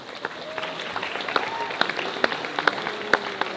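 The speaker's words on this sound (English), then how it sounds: "How about a big round of applause for the musicians?" Crowd applause for the musicians at a fire luau birthday show in Hawaii, a steady wash of clapping with sharper individual claps standing out, mixed with cheering voices and a little background talk.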